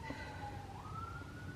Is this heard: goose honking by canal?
no